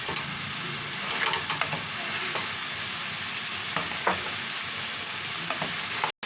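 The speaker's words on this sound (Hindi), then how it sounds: "इसको कितनी देर भूनना, 5-6 मिनट अच्छी तरह भून जाए।" Egg kofta gravy masala frying and sizzling in a pan, a continuous bright hiss broken by occasional scrapes and knocks of a stirring utensil, heard close with no one talking.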